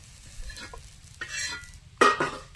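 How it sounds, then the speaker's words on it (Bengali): Tomatoes and green chillies frying in mustard oil give short bursts of hiss and sizzle as they are stirred, close by, with quiet gaps between the bursts and a sharper spurt near the end. "এই তেলটা টমেটো কাঁচা লঙ্কা একটু ভেজে নিচ্ছি"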